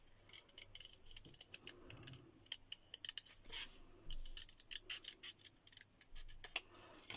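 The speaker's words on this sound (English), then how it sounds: "I might cut that knobbly bit off. I'm gonna cut that off." Scissors cut a knobbly bit off a paper element for a journal page, giving a run of sharp, irregular snips and clicks at close range over a faint background hum.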